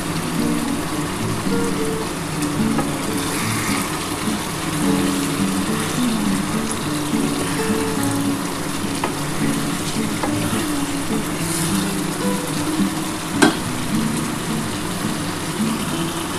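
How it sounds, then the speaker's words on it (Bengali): Rita or black aar fish and potato curry sizzles and fries in a pan as it is sautéed before water goes in. A dense, steady crackle holds close and even throughout, with faint stirring. "আমি অল্প একটুখানি কষিয়ে নিয়ে আমি তারপর জল দিয়ে দেবো।"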